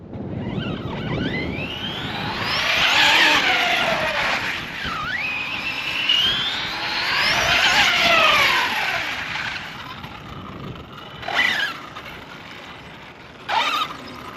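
An electric radio-controlled Big Rock RTR truck drives nearby with a high whining motor that rises and falls in long sweeps as it speeds up and slows, then a couple of short whirring bursts at the end.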